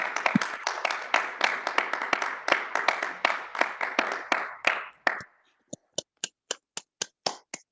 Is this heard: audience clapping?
yes